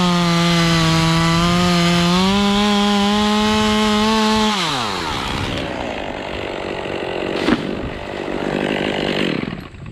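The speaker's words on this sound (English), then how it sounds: "Cut this one just below this knot." A chainsaw runs at high, steady revs, then bogs down as it bites into a massive tree log, grinding and fluctuating through the cut, loud and close.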